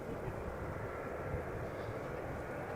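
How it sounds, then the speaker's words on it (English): A KLM Boeing 777-200ER arriving at Amsterdam Schiphol Airport from Las Vegas gives a steady, broad jet roar with deep rumble, heard from a moderate distance and holding even throughout. "KLM flight 636 777-200ER arriving from Las Vegas"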